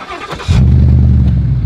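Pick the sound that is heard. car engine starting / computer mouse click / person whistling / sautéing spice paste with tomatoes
car engine starting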